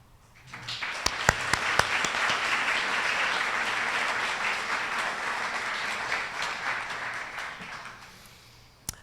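Sustained applause from a meeting audience thanking a scholarship committee at an annual meeting, a few sharp claps at the start swelling into a steady, dense wash of clapping that fades out near the end.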